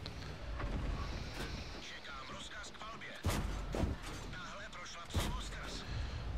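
Tank cannon fire in World of Tanks booms in a couple of heavy, sharp blasts over a constant rumble of game engine and wind noise, with someone commentating throughout.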